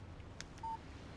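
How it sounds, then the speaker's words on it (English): A short electronic alert tone from a phone receiving a text message in the video game Alan Wake, one brief pure beep preceded by faint clicks against a quiet background hum. "Text message from Barry."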